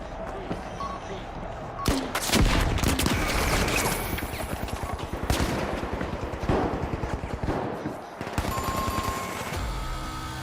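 An automated turret in the shooter game The Finals fires long rapid bursts, a loud close machine-gun rattle with a short pause, and some game effects around it.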